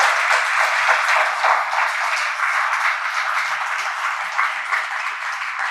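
Sustained, dense applause from a university lecture audience following a talk on global trade, steady and fairly loud throughout with no voices over it.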